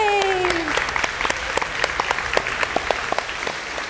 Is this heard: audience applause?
yes